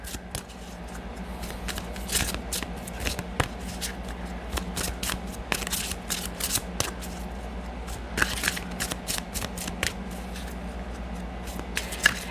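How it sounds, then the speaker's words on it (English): Deck of Angel Medicine Oracle cards being shuffled by hand, a steady run of soft riffling and sliding card noises with crisp flicks, close and alone with no talk. "Let's go to the Angel Medicine Oracle cards."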